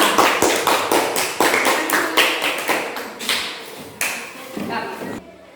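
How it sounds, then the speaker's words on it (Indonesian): A classroom group claps for a student team in Indonesia, a burst of close, sharp hand claps in a steady, quick rhythm that thins and stops near the end. "Sekarang tepuk tangan untuk kelompok 2."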